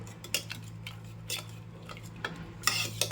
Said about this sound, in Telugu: కుక్కర్ అయితే చల్లగా అయిపోయింది కలుపుదాం